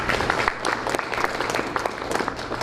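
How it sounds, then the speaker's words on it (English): Steady applause from an audience at a school board meeting, a dense continuous patter of many hands clapping at moderate volume throughout, with a little background crowd noise. "So let's give her a round of applause."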